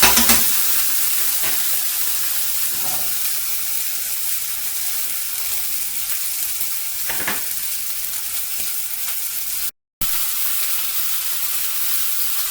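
A boned and rolled leg of lamb sears in a hot pan, giving a steady, close sizzle and frying hiss that runs throughout with a few sharper crackles and one brief dropout.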